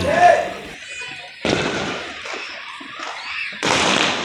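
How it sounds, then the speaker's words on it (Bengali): New Year's Eve fireworks burst at night over Dhaka in a few loud, sharp booms spaced a second or two apart, with a voice talking over them. "একটি পর একটি আতসবাজি ঠুসঠাস করে ফুটছে হুঙ্কার দিয়ে উঠছে"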